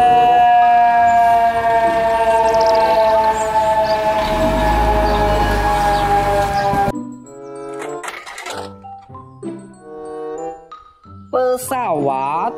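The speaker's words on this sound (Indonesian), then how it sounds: "mobil truk pemadam kebakaran" A toy fire truck siren wails loudly and steadily for several seconds, then stops, followed by someone speaking excitedly.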